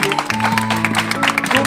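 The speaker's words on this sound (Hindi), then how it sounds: "जोरदार तालियां खुदा की आवाज के लिए लगाएंगे" A church congregation claps loudly during a sermon, a dense burst of many hands clapping over sustained music tones.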